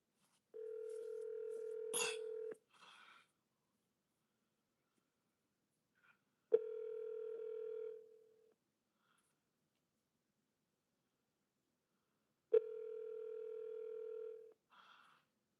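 An outgoing phone call placed through an Alexa smart speaker rings back three times. Each steady ring tone lasts about two seconds, with long silences between them, and the sound is fairly faint.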